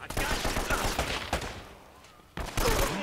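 Rapid video game gunfire from Uncharted rattles in dense bursts, stops for about a second, then resumes loudly, all close and punchy.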